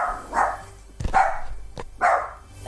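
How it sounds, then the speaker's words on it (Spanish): Dog barking in loud, sharp bursts, about three barks spaced roughly a second apart, close by and with no talk over them, heard during a Fortnite Battle Royale game session. "Es mi perro, lo siento."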